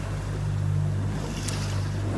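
Ocean waves of about a foot and a half roll past a boat half a mile offshore on a calm morning, heard as a steady washing rush with wind buffeting the microphone and a low engine-like drone, continuous and fairly loud.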